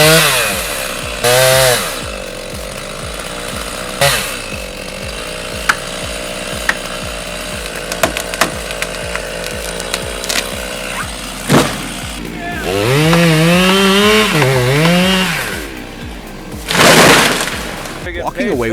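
A chainsaw revs and cuts through a tree during risky tree felling with no rigging. The loud engine whine rises and falls in bursts, and cracking and breaking wood and thuds come between the cuts.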